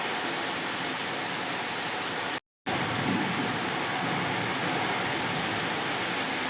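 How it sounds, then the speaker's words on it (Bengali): A torrential rain and wind storm at a rooftop home, heard as a dense, steady roar of downpour that fills the scene, broken only by a brief dropout of silence before resuming just as loud. "মুষলধারে বৃষ্টি হচ্ছে"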